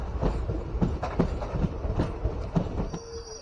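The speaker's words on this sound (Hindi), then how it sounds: "ट्रेन पहुंच रही है फालाकटा।" The Uttarbanga Express rolls into Falakata station with a low rumble and a rhythmic clatter of wheels over the rail joints, heard from close by, and a thin steady tone rises near the end.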